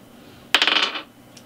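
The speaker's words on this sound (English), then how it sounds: "We're gonna roll the dice." A single quick rattling clatter of dice rolled onto a hard surface, a sharp burst of rapid clicks lasting about half a second, close and fairly loud, followed by a faint tick.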